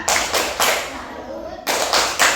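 Rhythmic group clapping from a class of children doing the tepuk salut chant, sharp bursts of claps in a patterned beat with a short pause in the middle where voices are heard.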